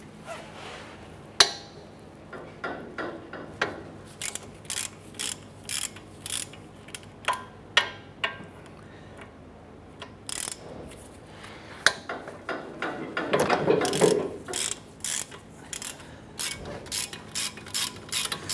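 A ratchet loosening the 17mm brake caliper bolts on a 2007-2012 Nissan Versa, heard as close, sharp clicking in bursts, then a denser rattling run of turns near the end, with no talking.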